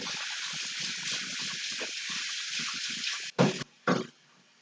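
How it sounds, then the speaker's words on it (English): Water runs steadily from a tap while hands are rinsed under it, a close, even gushing stream that is cut off and briefly restarted in two short splashes before stopping, with no talking. "I'm gonna rinse my hands a little bit."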